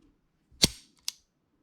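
A Walther PP/PPK pistol's trigger is pulled, giving a sharp close metallic click followed by a second lighter click about half a second later, isolated in quiet.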